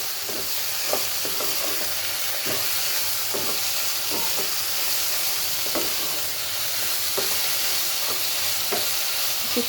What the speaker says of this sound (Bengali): এখন এই যে করলা ভাজিগুলো দিয়ে দেব।